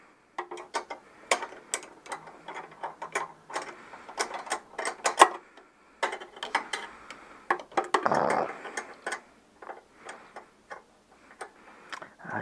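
A 16 mm wrench working a nut on a Citroën 2CV cylinder head, a string of quick metallic ratcheting clicks in irregular bursts with short pauses and a brief scraping rustle, close and fairly quiet.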